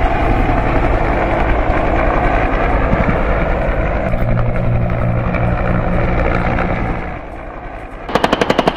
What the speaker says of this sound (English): Cobra attack helicopters engage the targets with a high degree of accuracy, employing cannon, rockets, and missiles.